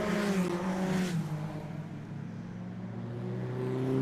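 Rally car passing on a stage, its engine loud and close at first, then its pitch falling and fading as it drives away, with steady background noise and no talk.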